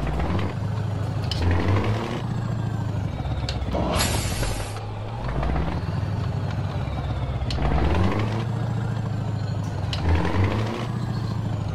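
A Scania 4-series 164 480 truck engine in a video game rumbles steadily with a low, throbbing drone and rises and falls in a repeating pattern, with one brief high hiss partway through.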